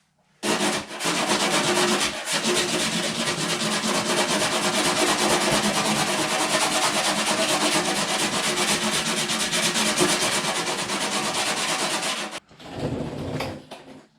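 Coarse 60-grit sandpaper works a car body panel in a long, continuous, loud abrasive rasp, close and steady for about twelve seconds, then stops with a short final pass.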